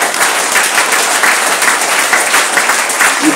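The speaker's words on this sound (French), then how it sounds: "Il faut que tu acclames très fort." A church congregation at a Sunday worship service applauds loudly, with dense, sustained clapping and cheering that fills the whole stretch at a steady, close volume.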